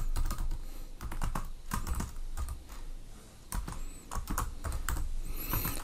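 Rapid clicks of a computer keyboard as a name is typed into an Excel sheet, close and clear, in irregular bursts of keystrokes with short pauses, no voices.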